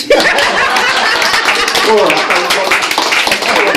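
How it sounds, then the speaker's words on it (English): Audience members at an open mic night clap steadily, a dense continuous patter of applause with scattered laughter and voices mixed in, loud and close throughout. "You can clap."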